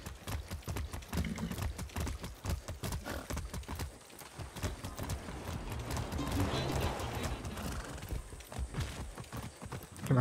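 Horse hooves clip-clop at a quick gallop in Far Cry 6, a steady rhythmic pounding close up, running under game ambience with scattered voice and effects.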